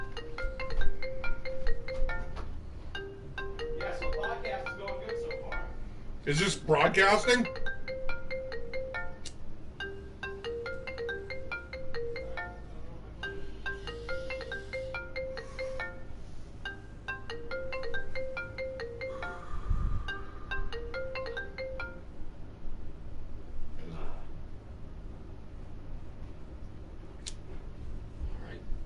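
A phone ringtone plays a repeating melodic pattern of electronic beeps for a long stretch in a room during a live podcast, looping steadily with brief talk and thumps around it.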